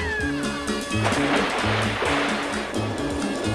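The rapids of the Salmon River rush steadily, a broad wash of water at moderate level, running under a repeating low musical tone throughout.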